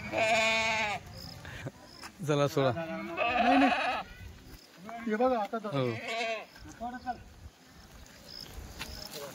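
Kathiyawadi goats at a goat market bleat several times, loud and close, their calls overlapping with people talking nearby.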